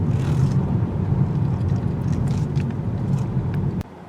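Steady road and tire rumble inside a 2019 Kia Forte cruising on the road, a constant low drone with a faint whir, ending in a sudden drop near the end.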